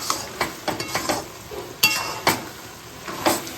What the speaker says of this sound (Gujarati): હવે આપણે સરસ એટલું એકદમ મિક્સ કરી દઈશું ઘીને